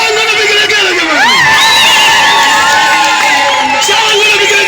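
A crowd at a celebration cheers and ululates loudly, high trilling cries sliding up and down over a dense babble of shouts and voices.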